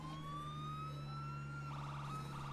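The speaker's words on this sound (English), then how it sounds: "Does more so if you have the siren on." An ambulance siren in a video game sounds a steady electronic wail, its tone slowly gliding upward before switching to a faster warbling pattern, heard alone at moderate level.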